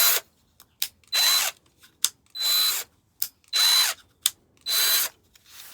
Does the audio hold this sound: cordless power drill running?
yes